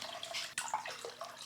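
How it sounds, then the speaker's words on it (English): Cold tap water pours into a pot holding eggs for hard boiling in a home kitchen, a brief, fairly faint, steady splashing stream with one small clink. "I'm going to pop them into a pot and submerge them in some cold water"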